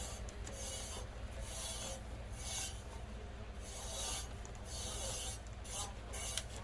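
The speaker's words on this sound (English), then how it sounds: "What I do is I rub the excess off first, kind of just a general go over it." A cloth rubs excess stain off a tattooed dog bowl in soft, repeated swishing strokes, faint and close, in slow rhythmic passes with no talking.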